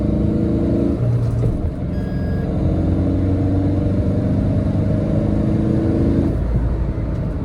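A Tata Nexon in sports mode accelerates hard for a timed run, its engine note rising with gear changes. The engine stays loud and close throughout, and the tone shifts near the start and again late in the run.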